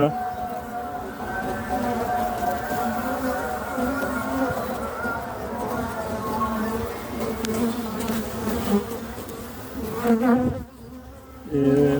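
Dense, steady buzzing of many honeybees close up at an opened hive during inspection, a continuous droning swarm with a faint voice now and then beneath it.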